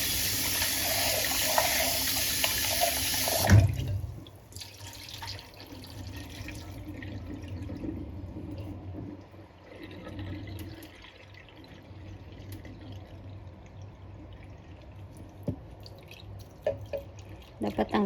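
Water runs and splashes at a kitchen sink as 1.5 cups of rice are rinsed, a loud gush at first giving way to quieter sloshing and dripping, with a person talking over it.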